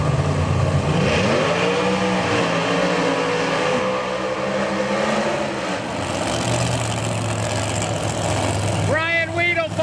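Supercharged Pro Street drag racing cars idle and rev loudly at a Maryland International Raceway test session, a dense engine roar with rising and falling pitch sweeps and a sharp rev near the end, under an announcer's voice.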